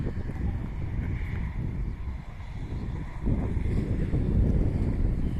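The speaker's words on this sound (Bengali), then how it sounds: "কন করে ঠান্ডা হাওয়া" Cold wind buffets the microphone at a deserted petrol pump on the road to Puri, a constant loud low roar that swells in gusts, with no voices.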